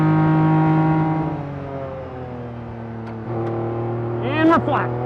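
A time attack kei truck engine held at full throttle on a race track, droning steadily in-car with a strained, sustained pitch, while someone talks over it and other revving engines pass in the background.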